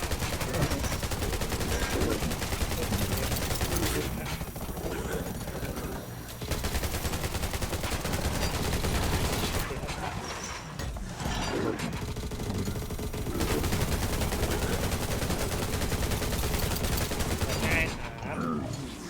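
Rapid bursts of automatic gunfire and shots from the survival shooter game Undawn crackle almost nonstop, loud and dense, with players shouting excitedly over the fighting.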